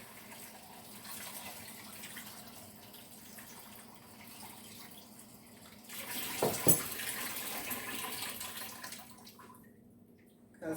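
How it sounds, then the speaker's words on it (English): Tap water runs steadily in a broad hiss over potatoes, swelling louder midway as the stream hits them, then cutting off near the end. "Let's pour this hot water off the potatoes and run some cold water over it."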